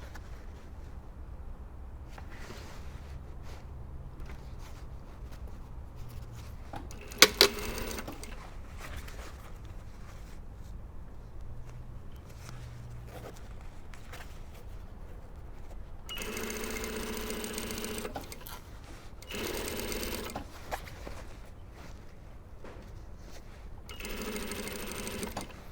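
A domestic sewing machine stitches a facing at a 6mm seam in several short, rapid bursts of whirring, separated by quiet pauses with faint handling noises.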